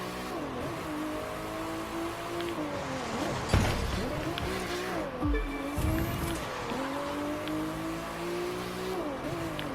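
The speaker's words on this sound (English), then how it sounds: "this vehicle is a race car slash hypercar" A race car hypercar in The Crew 2 roars through continuous high revs with rising and falling gear-shift sweeps and brief tire squeals, loud and close, with no talk.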